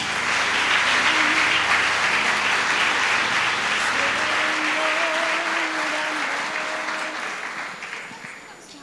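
A church congregation applauds for a long, steady stretch, dense clapping filling the room while voices and cheers rise over it, the ovation slowly tapering toward the end.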